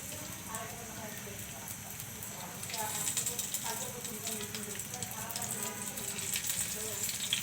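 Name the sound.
tilapia fish frying in mustard oil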